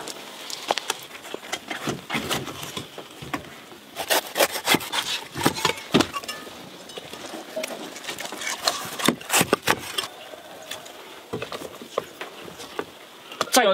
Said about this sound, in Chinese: 洗的差不多了，就给它切成小块。